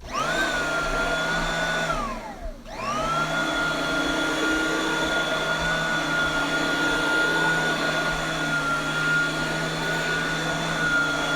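A reconditioned vacuum cleaner with a two-speed motor whines on its low setting, its pitch dipping sharply once as if briefly cut, then recovering to a steady, close hum.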